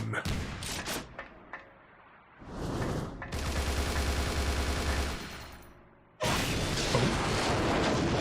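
Gunfire in the Bullet Witch video game: bursts of rapid shots and booms, loud and close, with a quieter gap in the middle before a sustained barrage resumes.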